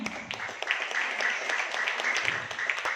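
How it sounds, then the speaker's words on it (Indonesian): An audience claps at a marketing plan presentation, a scattered, steady patter of many hands that carries on for a few seconds at moderate volume. "Berikan aplaus untuk kita semua."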